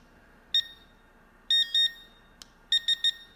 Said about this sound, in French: 3 bips, ça veut dire qu'il est à fond.